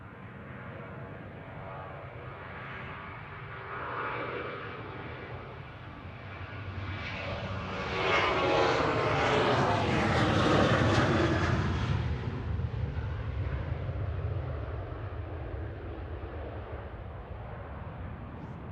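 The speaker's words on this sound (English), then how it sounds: "On short final to 23 right is Qatar flight" A Qatar Airways jet airliner on short final to runway 23 right at Manchester Airport passes overhead. Its engine roar swells from a distant hum to a loud, broad whoosh midway and then fades back.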